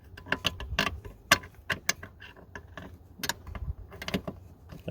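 A deep well socket fitted over the nut on a seat stud of a 2008 Ram driver seat, heard as light metallic clicks, taps and jingling in irregular close bursts, with faint background noise between them.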